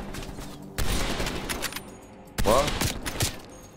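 Rapid bursts of gunfire from the video game Call of Duty: Black Ops Cold War campaign come in two loud volleys with sharp cracks, and a voice speaks briefly between them.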